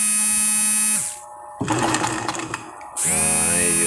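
Janome household sewing machine stitching, with a whirring motor run that stops, a burst of mechanical clatter and rattling in the middle, then the high whine starting up again, close and loud.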